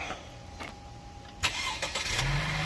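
A Chevy car with a dead battery, jump-started, cranks briefly after a quiet stretch and then catches, settling into a low steady idle nearby with no talk.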